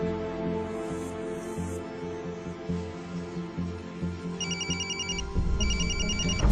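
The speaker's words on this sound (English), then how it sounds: "Whose phone is that?" A mobile phone ringtone chirps in repeated bright electronic bursts over soap-opera background music, the ringing pattern starting midway and repeating twice.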